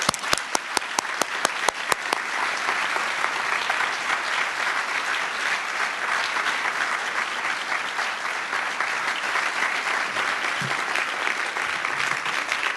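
An audience applauding in a hall to welcome film critic J. Hoberman, opening with a few distinct claps that swell into steady, dense clapping lasting throughout.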